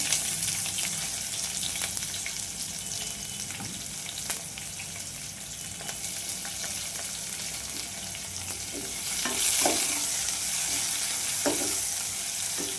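Onions fry in a pan for a dal palya, a dense, loud sizzle running throughout with scattered stirring scrapes and a brief swell in intensity toward the end, with no talking.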